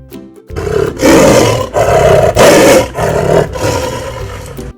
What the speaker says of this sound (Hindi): शेर ने मदद के लिए दहाड़ लगानी शुरू की।